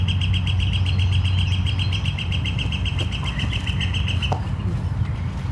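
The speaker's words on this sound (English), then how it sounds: "that woodpecker on a very strict schedule of screaming while the lead card comes through and hammering on the metal sign" Outdoor ambience at a disc golf tournament with a woodpecker calling in a long run of shrill repeated notes over a steady low hum, and a couple of faint knocks near the end.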